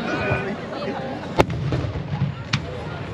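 Fireworks display over Royan, with distant booms and sharp bursts, two louder cracks standing out, under murmuring crowd chatter and nearby voices.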